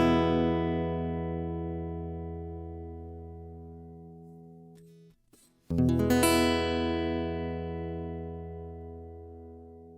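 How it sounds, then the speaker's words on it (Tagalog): Troubadour Jcraft Taka Mini GS Pro acoustic guitar played through its pickup with the treble dialled up, a bright chord ringing and decaying, briefly cut, then struck again and sustaining, close and clean with no talk. "So ito ang treble ng pickup ng Taka Mini GS Pro."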